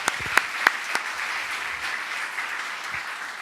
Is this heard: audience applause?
yes